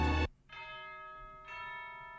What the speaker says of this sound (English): One more bit of percussion, just that church bell sound.